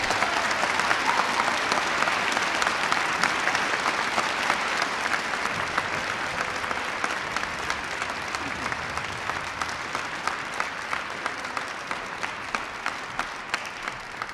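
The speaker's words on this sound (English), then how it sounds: "So one more time, a large round of applause for everybody who's here with us this morning." A large school assembly crowd at a Veterans Day event applauds in a long, sustained wave of clapping that stays fairly even for about fourteen seconds.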